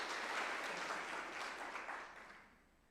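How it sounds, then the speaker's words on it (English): A congregation applauds during a Unitarian Universalist Sunday service, a dense, steady wash of many hands clapping together that slowly fades out toward the end, with no talking over it. "give us a round of applause"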